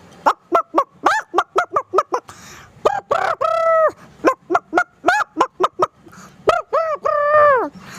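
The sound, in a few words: child imitating chicken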